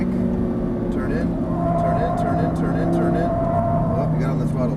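An Audi R8 accelerates on a track in Las Vegas, its engine droning steadily and rising in pitch under a coach's voice giving instructions.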